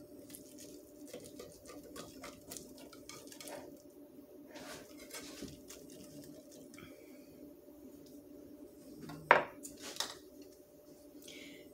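Tuna casserole is pried out of a baking dish with soft, wet squishes and scrapes. A sharp utensil clink near the end stands out over a low, steady background hum.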